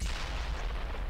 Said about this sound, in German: Ich bringe ihn zum Explodieren.